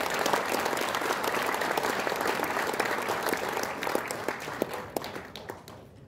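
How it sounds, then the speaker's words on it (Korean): A lecture hall audience gives warm applause to Professor Lee In-ho before her talk, a full crowd of clapping that holds strong and then thins and fades toward the end. "이인호 교수님께 뜨거운 박수를 보내주시기 바랍니다"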